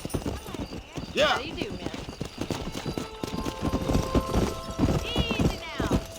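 Galloping hooves of a horse ridden in the Red Dead Redemption video game, a steady rapid clip-clop close by, with a whinny and a voice speaking over it amid game sound.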